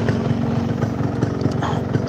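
A Yamaha RX King motorcycle with a ported engine runs close by in a rough, steady drone. Its uneven burble carries faint background noise and no clear speech.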